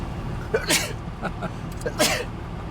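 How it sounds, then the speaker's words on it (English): Two sneezes about a second and a half apart, each a sharp burst of breathy noise, with faint background rumble between them. "I sneeze twice usually from this gum."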